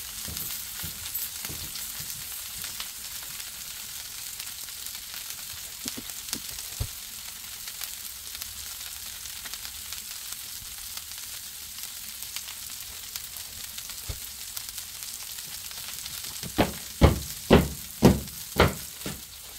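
Smash burgers cook on a Blackstone griddle with a soft, steady sizzle throughout, then a run of sharp, close scraping and tapping sounds near the end.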